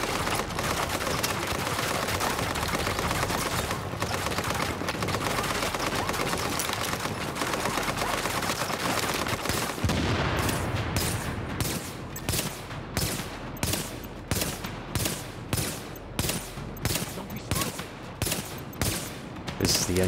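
Enemy gunfire in Tom Clancy's The Division, a long unbroken stream of heavy automatic fire that shifts into rapid, evenly spaced shots for the second half, loud and close.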